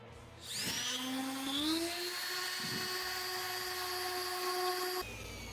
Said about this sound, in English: So we're gonna try 80 grit on the orbital sander.